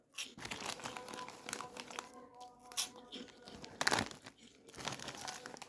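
A cheese-flavored snack bag crinkles up close, with busy, irregular rustling and crackling and a few sharper crunchy bursts that continue without stopping. A voice can be heard faintly in the background.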